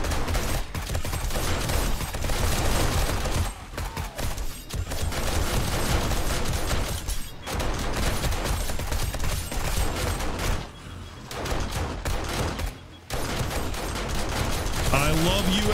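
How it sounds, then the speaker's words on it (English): SMG turrets in the 7 Days to Die video game fire during a horde night, sustained dense rapid gunfire with brief gaps, loud and continuous, with a voice talking over it. "I love you, SMG turrets."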